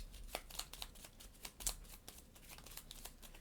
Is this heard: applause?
no